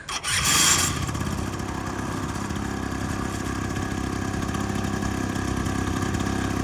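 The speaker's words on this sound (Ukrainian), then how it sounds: "Так непогано працює двигунчик" A Yamaha Jog SA16 scooter engine idles steadily after a brief rev at the start, a close continuous buzzing rumble with no voices.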